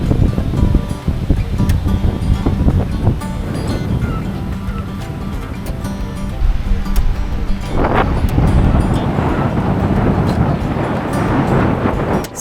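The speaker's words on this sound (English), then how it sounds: "the adults only beach, also called Serenity Bay, was even more windy" Strong wind gusts batter the microphone over crashing surf at Serenity Bay, an adults-only beach. The roar is loud and steady throughout, and there is no speech.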